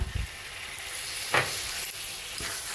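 Ginger garlic paste is stirred into a frying spice masala for a fish curry, close sizzling hiss with a couple of spatula scrapes and knocks against the pan, no voices.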